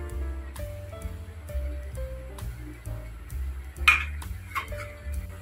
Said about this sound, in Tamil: இப்போ வந்து ஒரு 2 நிமிஷத்துக்கு ஒருக்கு நம்ம இப்படி நல்லா கிளறி விட்டுக்கணும், இல்லைன்னா அடி பிடிச்சிரும்.